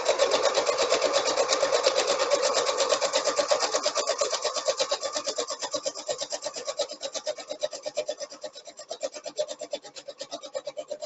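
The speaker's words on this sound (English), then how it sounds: "And so I'll just sew this around." A sewing machine stitching around satin bonnet fabric, a close, continuous rhythmic whirr with a fast regular pulse that slows and grows uneven toward the end, with no talking.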